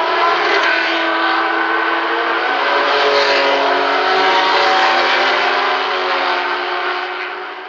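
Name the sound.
Matra race cars starting reconnaissance lap, 1973 Le Mans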